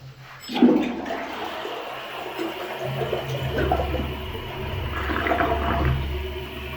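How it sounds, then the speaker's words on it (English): A newly installed toilet bowl flushing up close: an abrupt gush and swirling rush of water, then a steady hiss and gurgle as the tank refills. "So let's give it a flush."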